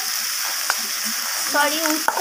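Bitter gourd stir-fries in a pan with a steady sizzle, a few stirring clicks, and a faint voice-like warble near the end.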